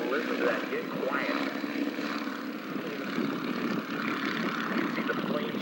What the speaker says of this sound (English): John Mohr gets absolutely everything that Stearman has to offer.